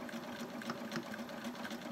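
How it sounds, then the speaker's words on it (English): Sewing machine top stitching around the top of a peg bag, a steady run of rapid needle clatter with a faint hum beneath, close and continuous throughout. "I'm just going to finish off the top with a little bit of a top stitch"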